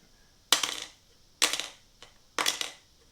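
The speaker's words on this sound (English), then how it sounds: "That's the sound of a cheap sheath." A cheap plastic knife sheath is handled, producing three crisp plastic clicks and snaps close up, each followed by a short rattling tail, spaced about a second apart with quiet between.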